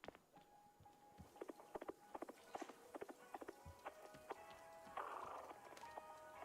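Horse hooves clip-clop in quick, uneven steps at a quiet level, with faint tonal game effects and a brief whoosh near the end.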